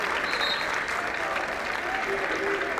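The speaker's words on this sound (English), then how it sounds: "Nice round of applause." Steady applause from a crowd filling a high school gym during a boys' varsity basketball game, a dense continuous clatter of clapping that holds evenly throughout without a break.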